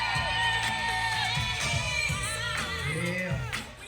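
Party crowd at a 60th birthday celebration cheering, whooping and screaming for the birthday woman, a loud sustained burst of many voices with yells rising over it, fading slightly at the end.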